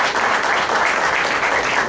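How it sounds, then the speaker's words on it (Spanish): Steady applause from an audience at a university scholarship award ceremony, a dense, continuous patter of many hands clapping in a hall, with no voices over it. "Pedro, un aplauso para Pedro."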